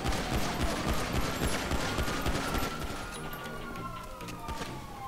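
Rapid gunfire bursts in a FiveM roleplay game, dense crackling shots mixed with a wailing police siren, loud and continuous, with brief shouted voices over the chaos.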